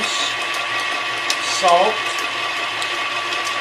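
An electric mixer blending flour, cinnamon, ground cloves, salt, baking soda and baking powder: a loud, steady motor whir that runs throughout, with a person talking over it.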